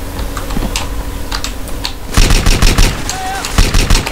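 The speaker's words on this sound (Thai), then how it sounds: "ลูกซองนี่มันแรงจริงได้ใจผมมากเลยว่ะ" Gunfire in the GTA San Andreas video game, with a shotgun among the weapons: soft scattered pops at first, then a loud, rapid volley of booming shots in the second half.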